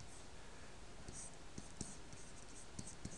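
Pen or marker strokes writing out a probability sum, several faint, sparse scratches set against a steady hiss of background noise.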